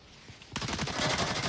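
Gunfire in the VR shooter Onward during a competitive match, a sudden burst of rapid shots starting partway through and continuing as dense, loud repeated cracks after a quiet lead-in.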